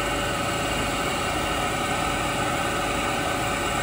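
A German Fritz Werner spline shaft grinding machine, built for 1500 mm job lengths, runs steadily with a dense, unbroken mechanical hum and whine, close and loud with no variation.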